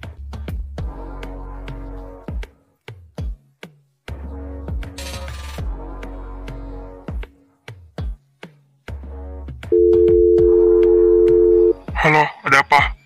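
A phone call in the Sakura School Simulator game: a steady electronic dial tone of about two seconds among repeated short synthetic beeps and game sounds, with clicks between them.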